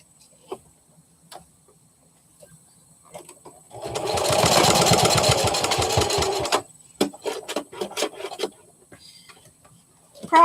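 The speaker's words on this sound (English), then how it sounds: "Let's give it just another stitch just to be safe." A sewing machine stitches a fabric chameleon plush in one loud, steady run of rapid needle strokes lasting about three seconds, with scattered handling clicks and taps before and after.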